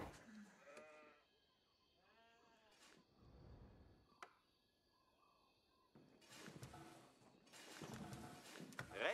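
Sheep in the strategy game Age of Empires IV bleat several times in wavering calls, mixed with other game effects and sounds that grow louder toward the end.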